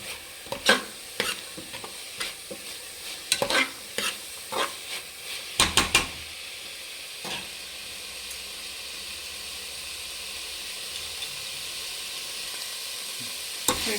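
Peas frying and being stirred in a pan for menthya bath, several scraping spoon strokes in the first half, then a steady close hiss of sizzling oil carrying on alone.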